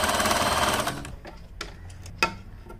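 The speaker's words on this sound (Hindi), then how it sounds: "इस तरह से दोनों सेंटर के अच्छे से मिला के यहाँ पर सिलाई लगानी है" A sewing machine stitches fabric pieces for a designer button, whirring steadily and loudly for about a second before stopping, followed by a few faint clicks and handling taps.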